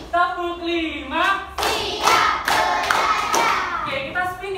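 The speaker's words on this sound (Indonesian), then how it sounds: "Tepuk satu, tepuk dua, tepuk tiga, tepuk empat, tepuk lima." A school class claps hands in a counted rhythm, bursts of clapping alternating with children's chanted counting voices, loud and close.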